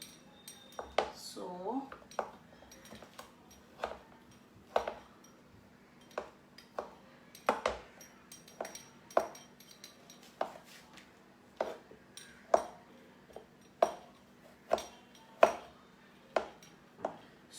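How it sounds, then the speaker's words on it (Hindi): A knife chops food into fine pieces for a Bengali patishapta filling, striking a board in steady, sharp, close taps that repeat roughly every second, with a voice speaking briefly at the start. "I am cutting and chopping it into fine pieces"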